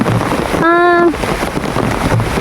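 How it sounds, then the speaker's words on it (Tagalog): Heavy rain pours steadily as a loud, continuous wash of noise, with a brief tonal sound rising over it partway through. "Nagmamadali ako kasi sobrang lakas ng ulan."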